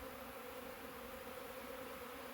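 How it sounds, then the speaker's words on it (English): Honeybees swarm-caught in a trap hive, flying in and out around the entrance, making a steady, dense buzzing hum that stays loud and constant throughout with no voices. "bees are coming and going from this hive"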